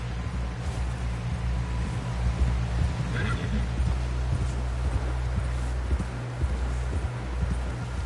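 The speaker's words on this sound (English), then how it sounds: "Someone help John down off this horse" In the video game Red Dead Redemption 2, a horse whinnies once amid steady clip-clop of hooves and low rumbling background noise, with faint voices.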